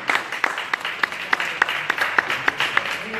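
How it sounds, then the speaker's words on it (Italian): Applause at an award ceremony for a regional race trophy in Arconate, a crowd clapping in a loose irregular rhythm with sharp individual claps standing out, steady and moderately loud. "Applauso."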